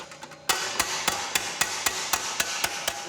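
Hammer blows on sheet metal in a manufacturing shop, flattening bulges: about ten sharp, loud, close strikes in a steady rhythm over constant shop noise, with a few lighter taps before.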